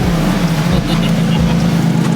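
A trashed takeover car's engine idles in a loud, steady low drone with a constant throbbing hum, close to the listener for a couple of seconds.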